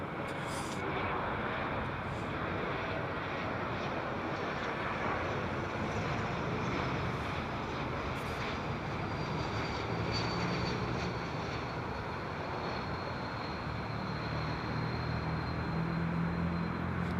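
A KLM airliner at Heathrow Airport, a distant, faint steady engine rumble and whine carried over windy outdoor air, with no voices present.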